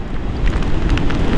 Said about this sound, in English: That was a strong gust of wind.